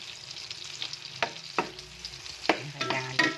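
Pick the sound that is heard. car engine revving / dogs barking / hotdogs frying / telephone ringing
hotdogs frying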